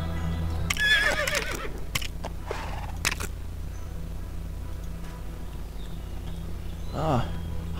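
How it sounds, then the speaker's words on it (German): Horse in the video game Lego Worlds whinnying a couple of times amid game sounds and a steady background hum, with someone talking over it. "das ist das Pferd, was da oben war"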